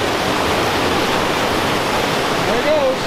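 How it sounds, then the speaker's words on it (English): A creek pours through a tunnel dug in rock along the San Juan Skyway in Colorado, a loud unbroken roar of rushing water close by, with a faint voice-like tone briefly rising near the end. "It's a big dug a tunnel through the rocks for this creek to come through."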